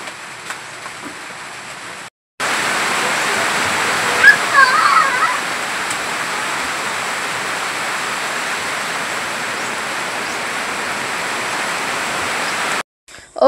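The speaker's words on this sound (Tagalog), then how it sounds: "nagsugod na pud ang uwan" Rain begins pouring outdoors at a seaside spot, a loud, dense and even hiss that holds steady for about ten seconds, with brief quieter moments at the start and end.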